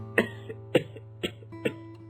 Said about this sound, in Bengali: ওষুধ না খেলে এই কাশি আর সারবে না মনে হচ্ছে